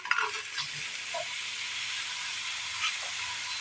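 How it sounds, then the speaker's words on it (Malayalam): Grated jaggery added to a frying pan of ripe nendran banana for a sweet snack and stirred: a close, steady hissing sizzle with a few soft stirring knocks. "ഇതിലേക്ക് നമുക്ക് ചീകി വെച്ചിരിക്കുന്ന വെല്ലം കൂടി ചേർത്ത് കൊടുക്കാം"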